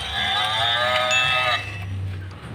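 A battery-powered toy buffalo gives a loud electronic moo lasting about a second and a half, followed by a low mechanical hum, with no talking.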